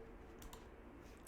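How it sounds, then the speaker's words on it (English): A handful of soft keystrokes click on a computer keyboard in a brief, faint burst of quick taps against a quiet background. "let's just type in something simple."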